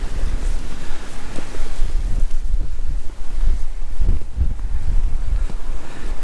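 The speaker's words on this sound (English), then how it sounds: "I've got the wind behind us now, Sue." Strong wind gusts roar continuously across an open road beside snow-laden woodland on a winter walk, loud and buffeting the microphone with surging rushes throughout.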